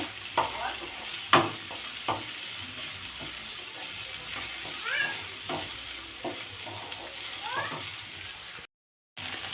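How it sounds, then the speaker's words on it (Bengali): Cashews, raisins, capsicum and green chillies fry in a pan for Bengali-style fried rice, a steady close sizzle with occasional sharp clatters of a spoon stirring, plus a few faint meow-like squeaks and a brief dropout near the end. "কাজু কিশমিশ আর ক্যাপসিকামটা ভাজা হয়ে এলে আমি কাঁচা লঙ্কা দুটো দিয়ে দিলাম"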